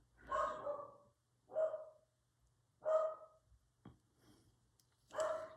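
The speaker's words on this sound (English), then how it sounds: "oh, excuse my dog." A house dog barks indoors in four or five separate, evenly spaced woofs, fairly close but moderate in level against a quiet room.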